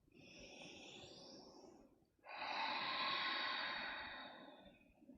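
Slow, deep breaths during a yoga flow: one long inhale or exhale, a brief pause, then another full, airy breath, close and fairly soft.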